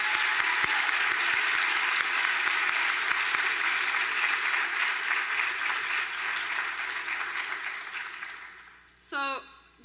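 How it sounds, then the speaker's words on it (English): Audience applause at a first-generation student graduation ceremony, a dense and sustained roar of clapping that slowly fades over several seconds, then a voice speaks near the end. "Now, can we give them a round of applause?"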